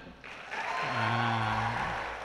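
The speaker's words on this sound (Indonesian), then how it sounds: "Tepuk tangan sekali lagi untuk mahasiswa FAI" Applause for university students of the FAI faculty swells into a steady, fairly loud patter of many clapping hands at a campus event, with a brief tonal cheer rising through the middle.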